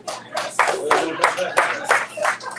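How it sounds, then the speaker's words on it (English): Scattered audience clapping at a talk about building a new society in the Bahamas, arriving in separate bursts and uneven rhythm over a couple of seconds, moderately close and mixed with speech-like sound. "Go ahead and clap."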